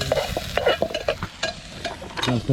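Onions frying in very hot oil, a continuous crackling sizzle mixed with scraping stirring strokes from a close pan, fairly loud and unbroken, with no voices.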